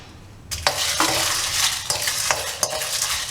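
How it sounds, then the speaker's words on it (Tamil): Dal and dried red chillies frying and being stirred in a pan for tamarind rice, a steady close sizzle broken by several sharp scraping stirs, with no talk. "பருப்பு கொஞ்சம் வறுபட்டுருச்சு. இந்த சமயத்தில் இந்த மிளகா வத்தலையும் போட்டுக்கலாம்."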